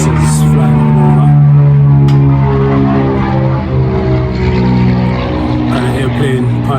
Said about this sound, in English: Airplane passing by.